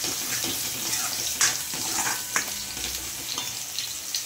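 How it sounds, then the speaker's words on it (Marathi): Fish frying in a pan over low gas, a close, continuous sizzle and crackle with a few sharper pops and stirring scrapes, no voices. "बारीक गॅसवरच त्याला फ्राय होऊ द्यायचं आहे"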